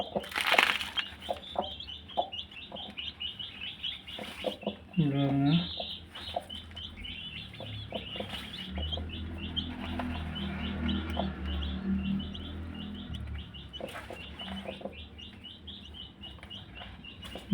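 Newly hatched country chicken chicks chirp in rapid high peeping bursts close by, with adult hens clucking and a person talking intermittently in the background.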